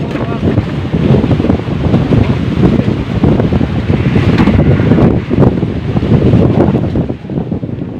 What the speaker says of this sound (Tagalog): talagang malalaki yan ang alon na yan delikado